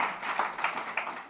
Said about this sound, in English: I hope that the applause are from French voters.